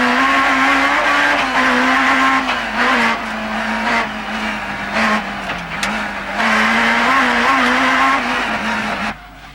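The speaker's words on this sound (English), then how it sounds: "you can hear that the exhaust has come loose on Austin's car" A 1990 rally car at speed with its exhaust hanging loose, engine note rising and falling in a loud, raspy drone with brief tire squeal, continuous and close before cutting off abruptly at the end.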